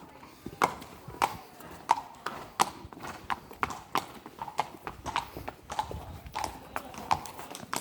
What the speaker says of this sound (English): We're now going to lead out with 2 horses, so the other horse is going to follow me.